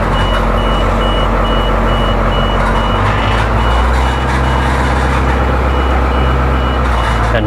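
An old school bus's reversing beeper, muffled from inside, repeating in a steady rhythm over a loud, rough idling diesel engine that revs briefly partway through.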